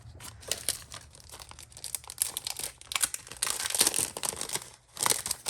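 Crinkly decorative paper being handled for an art journal spread, with close, irregular crackling and rustling bursts that swell and fade over several seconds.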